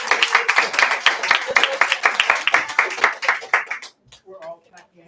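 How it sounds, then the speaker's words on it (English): Audience clapping at a folk music festival performance, dense and fairly close for about four seconds, then dying away into a few scattered claps with a brief voice. "We're all clapping."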